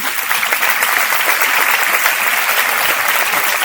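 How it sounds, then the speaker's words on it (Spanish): An audience at a STEAM training session claps for a speaker, producing dense, steady applause that stays loud and even throughout, close by with no talking over it. "Otro aplauso para Natanael."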